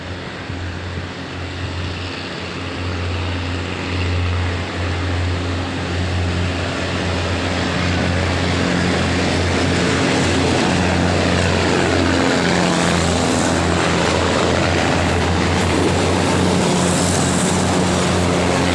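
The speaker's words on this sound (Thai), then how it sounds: "ขบวนที่ 419กำลัง จะ ออก จากสถานี บุรีรัมย์มาแล้วนะครับ" Local train 419 from Nakhon Ratchasima to Ubon Ratchathani pulls out of Buriram station, its engine giving a loud, steady, close rumble with a low droning hum that holds throughout.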